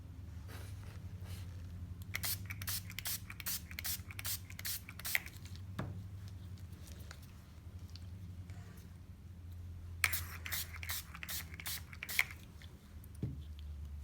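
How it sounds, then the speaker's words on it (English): Repeated sharp spritzes from a spray bottle of Marabu Fashion Spray fabric dye in quick bursts, two clusters of rapid pumps over a low background hum. "What we do now is spray it."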